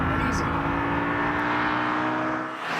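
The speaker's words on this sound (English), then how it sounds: "It's just an engine with personality. It's got a mechanical sound to it." A naturally aspirated Audi RS4 engine revs hard under acceleration, a steady, loud mechanical drone that holds throughout and eases slightly at the end.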